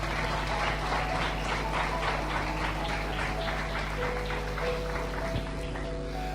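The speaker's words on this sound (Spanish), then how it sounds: "Dale un aplauso al Rey de Gloria." A church congregation applauds in rhythmic, evenly spaced claps over a steady sustained musical drone, filling the room at moderate loudness.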